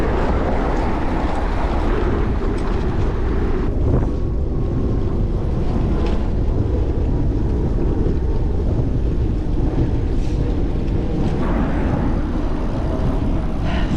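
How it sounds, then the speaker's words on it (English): Steady, loud wind buffeting roars across the whole stretch while riding a Brompton folding bike into a headwind on the Long Beach, New York loop, with no voices over it. "So much headwind."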